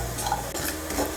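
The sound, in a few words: dry roasting panch phoron and radhuni spices in a wok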